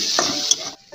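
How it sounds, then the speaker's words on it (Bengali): Chopped tomatoes dropped into hot oil for a Bengali fish curry, a brief burst of loud sizzling with a clink of utensil before it cuts off abruptly, with no voice. "তো এবার এর মধ্যে দিয়ে দিচ্ছি কুচি রাখা টমেটো"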